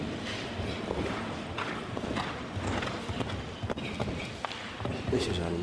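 A show jumping horse gallops around the course at the Rolex FEI World Cup in Bordeaux, its hooves pounding in a quick, uneven rhythm beneath a commentator's voice and arena noise.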